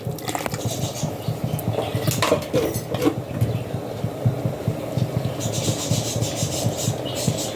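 Water is poured into a pot of soaked, washed rice while making chicken biryani, with a running splash joined by clinks and scrapes of metal cookware and utensils close by.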